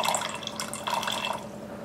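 Water pouring from an Eco Viva filter dispenser into a container: a steady, bright trickling splash with small drips, close and moderately loud, no voices.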